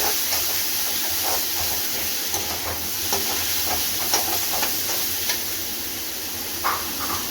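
Rock salt and turmeric sautéing in a pan, a steady close hiss of sizzling with faint scattered stirring scrapes, alone.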